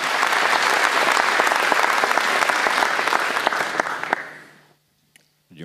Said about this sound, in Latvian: Aplausi lūdzu orķestrim